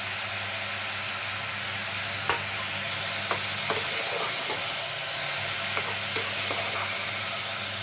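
Vegetables with fenugreek leaves and chopped mint fry in a pan with a steady close sizzle, while a spoon stirs and scrapes at intervals, giving occasional sharp clicks; no one speaks.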